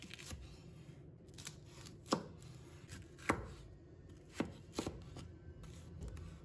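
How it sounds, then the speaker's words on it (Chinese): A kitchen knife slices a chili pepper into strips on a cutting board, with a handful of distinct, sparse chops landing close and clear against a quiet background. "把里面的辣椒子取出来，改刀切成条"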